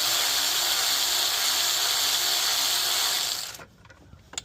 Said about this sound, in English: What I used for this one is the 12 and the 1/4 inch ratchets.